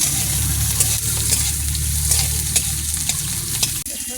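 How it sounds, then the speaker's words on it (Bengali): Garlic and green chillies frying in hot oil in a wok, a loud steady sizzle close up with occasional scraping stirs and clinks, no voices. "তেল গরম হয়ে গেছে তেল দেবো রসুন কাঁচা লঙ্কা রেখে দেবো"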